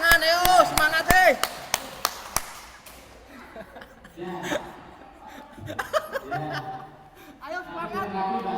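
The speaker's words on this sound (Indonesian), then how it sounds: "Tepuk tangan, ayo semangat deh." About a dozen sharp, evenly spaced claps ring out at an official gathering on assistance for people with disabilities, then fade as voices and murmured talk take over.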